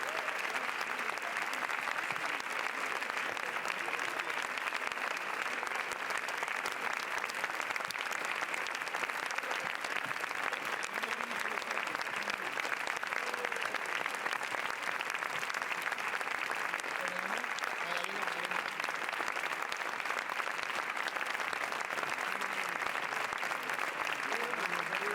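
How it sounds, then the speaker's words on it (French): Sustained, even applause from a large crowd for a film crew arriving at the Cannes Film Festival, heard as a continuous distant roar of clapping that neither rises nor fades. "Applaudissements chaleureux pour toute l'équipe du film Pacifiction"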